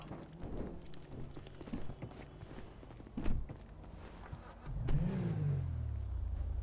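In a GTA role-play game, scattered footsteps and thuds give way to a car engine starting up and revving, holding a steady drone over the last couple of seconds, moderately loud.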